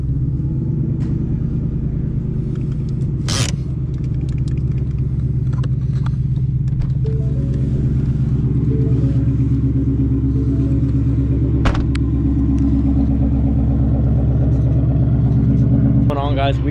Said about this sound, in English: I don't think that cold start is ever gonna get old, honestly. It's pretty loud